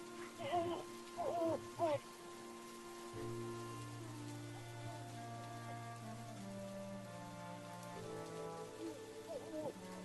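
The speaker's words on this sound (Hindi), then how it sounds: "लेकिन बारिश रुकने का नाम ही नहीं ले रही थी।" Steady heavy rain pours throughout a horror story soundscape, layered with a low sustained eerie drone and a few hooting, owl-like calls near the start and end, with no talk.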